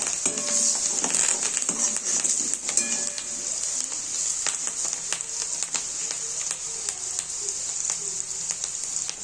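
A Marathi tempering of asafoetida, turmeric and salt sizzles hard in a hot pan, a dense, steady hiss with scattered sharp pops and crackles, close and continuous throughout, no talking.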